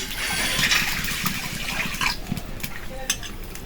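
Water is poured into a kadai set on the stove for cooking puti fish, a splashing, trickling fill with light clinks of metal cookware, close by and fairly loud before it tapers off into scattered knocks.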